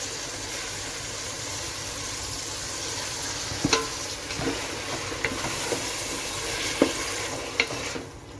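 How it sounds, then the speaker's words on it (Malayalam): Tomato paste, ground without water, goes into a hot pan for chicken majboos and is stirred. A steady frying hiss continues throughout, broken by scattered light scrapes of the spoon against the pan. "അതുകൂടി നമുക്കിതിലേക്ക് ചേർത്ത് കൊടുക്കാം"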